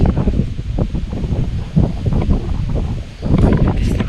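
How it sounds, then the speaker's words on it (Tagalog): Strong wind buffets the microphone in a constant low roar at an abandoned resthouse in Cavite, with gusts swelling and easing and a faint rustle behind. "Lakas ng hangin."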